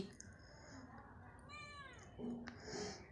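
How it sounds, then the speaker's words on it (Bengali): A house cat begging for puffed rice gives one drawn-out, rising and falling meow midway, fairly close but soft, amid quiet room noise and faint human voice sounds. "বিড়ালটা মেমে করতে থাকে কয়বার মুড়ি দিছি সারাদিন মেয়ে করে"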